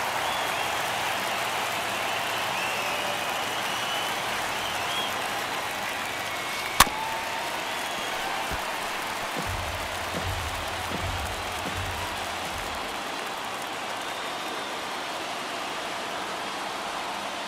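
A baseball stadium crowd in the MLB The Show video game, Mets versus Phillies, late in a one-run game, giving a steady, broad roar that runs throughout, with one sharp crack near the middle.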